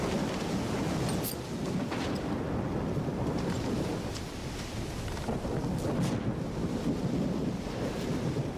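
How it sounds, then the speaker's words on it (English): A thunderstorm in the video game STALKER 2 rumbles with steady wind and rain-like roar and low thunder, continuous and moderately loud, with no voices. "Thunderstorms, not very fun."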